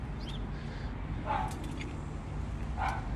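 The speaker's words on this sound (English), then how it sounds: "my dog is barking" A pet dog barks indoors in two short bursts, roughly a second and a half apart, over a steady hum of room noise, with no talking.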